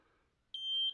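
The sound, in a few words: metal detector beeping over nails in utility pole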